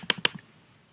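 A few quick keystrokes on a computer keyboard, two sharp clicks followed by softer taps, close and isolated in a quiet room.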